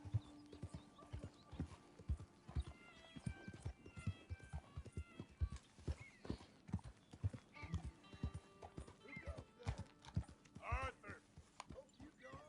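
Horse hooves clip-clop steadily in Red Dead Redemption 2, a brisk, even rhythm of hard strikes close by, with a few whinnies and snorts mixed in.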